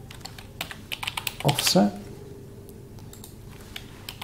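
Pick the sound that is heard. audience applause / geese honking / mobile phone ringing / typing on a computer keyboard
typing on a computer keyboard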